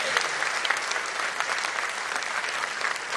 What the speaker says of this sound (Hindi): आपकी तालियों की आवाज आती रहे तो और अच्छा है